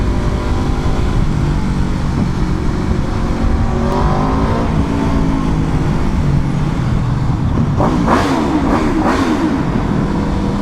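An Aprilia Xtrenta track motorcycle with a full exhaust and louder muffler rides steadily at close range, engine droning continuously, with a burst of crackling exhaust pops near the end.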